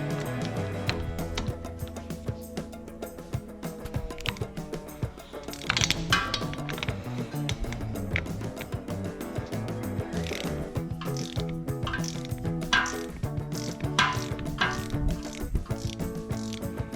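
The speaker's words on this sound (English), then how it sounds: "with a 3/8 ratchet." A 3/8 ratchet loosens the fill plug on a 2026 Ford Maverick Hybrid, a continuous run of fast mechanical clicking that stays close and fairly steady over the whole stretch.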